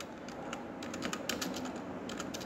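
Computer keyboard keys, including arrow keys, tapped in a quick irregular series of light clicks while text is edited in a Word document; close and moderately loud, with no talk.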